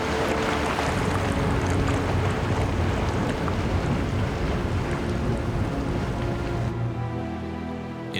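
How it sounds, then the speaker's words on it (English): The Pisciarelli fumarole venting, a vast vent of bubbling gas and mud, heard as a loud continuous roaring hiss with wind buffeting that eases slightly near the end. "Pisciarelli, a vast fumarole, a vent of bubbling gas and mud"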